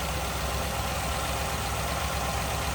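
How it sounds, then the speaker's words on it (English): A 1957 Ford Fairlane 500 Skyliner engine idles quietly under the hood, a smooth, steady low hum with no breaks and no voices. "Got that engine running underneath the hood. Very quiet."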